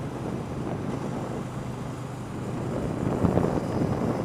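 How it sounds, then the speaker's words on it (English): Wind rushes and buffets hard against the microphone while a rider stands up on an Aprilia Caponord 1200 Rally motorcycle, a continuous rumbling roar that swells louder toward the end. "Standing up's pretty cool. Get some wind on you."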